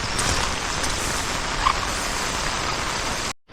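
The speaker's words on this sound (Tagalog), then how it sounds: "talakas po ng ulan" Heavy rain pours steadily at dawn, a dense, loud, even hiss with no break, cutting off abruptly at the end.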